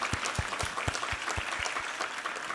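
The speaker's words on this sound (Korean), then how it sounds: "우리 하나님께 감사와 영광의 박수 올려드리겠습니다" A church congregation claps during a Sunday worship service, a steady wash of many hands with a faint rhythmic low thump underneath, moderately loud and continuous.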